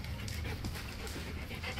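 A puppy pants close by in quick, continuous breathy bursts, soft and steady, with no talking.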